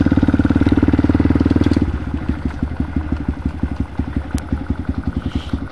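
A motorcycle engine runs with a loud, steady rumble that eases into a slower, even chugging pulse with sharp regular beats, close and alone.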